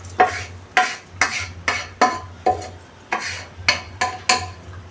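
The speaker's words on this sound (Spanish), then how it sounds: "sofreímos el arroz con las especies" Rice fries with sofrito and spices for arroz con chorizo, a series of about ten rhythmic scraping stirs over a soft sizzle, close and without talk.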